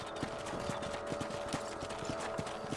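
Horses ride along in the Red Dead Redemption video game, their hooves making a steady, rhythmic clip-clop over a constant ambient bed of wind and background tones, with no talk.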